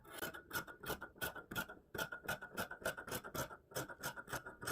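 Scissors cutting through plush fabric for a vest, a close, quiet run of rhythmic rasping snips in quick succession with brief pauses between strokes, no talk.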